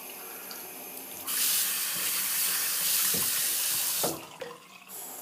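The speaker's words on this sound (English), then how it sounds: "A little more water here." Water runs from a tap into a sink while shaving lather is being made, a steady close hiss that rises sharply, holds, then breaks up as the flow is cut.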